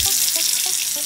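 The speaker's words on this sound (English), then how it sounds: "Water pressure test." A kitchen faucet runs during a water pressure test, a steady broadband hiss of flowing water with a few faint tonal clicks, heard close and alone for about a second.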